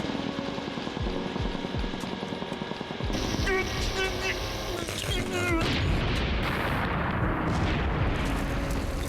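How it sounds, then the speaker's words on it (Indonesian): A loud, rumbling blast erupts midway, with crackling and booming noise swelling and lingering over a dense, chaotic background. "tiba-tiba Yoshi tersetrum dengan memegang mata giok dan terjadilah ledakan"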